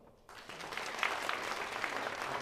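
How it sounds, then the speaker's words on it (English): Concert audience at a tribute show breaking into applause, a soft wash of many hands clapping that starts suddenly and holds steady, distant and moderate in loudness. "Now, by a round of applause, folks, how many people here have not seen me before?"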